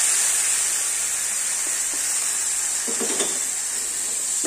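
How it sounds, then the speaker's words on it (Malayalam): Chopped tomatoes dropped into a hot pan for garlic rasam, a loud, constant sizzle and hiss filling the clip, with a brief clatter of stirring near the end and no talking. "ഇനി ഇതിലേക്ക് നമ്മൾ കട്ട് ചെയ്ത് വെച്ചിരിക്കുന്ന തക്കാളിയാണ് ഇട്ട് കൊടുക്കുന്നത്."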